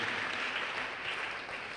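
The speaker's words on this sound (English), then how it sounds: "Let's clap for him one more time." Audience at an academic green chemistry workshop clapping for a speaker, a dense, fairly faint wash of applause heard from a distance, steady throughout the short stretch.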